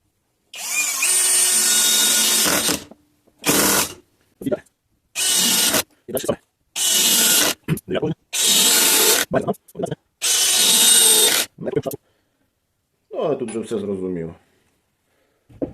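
An Einhell TE-CD 18/40 Li BL cordless drill driving 75 mm screws, heard as a series of loud, close whirring bursts of varying length separated by short pauses, the final burst softer and more uneven.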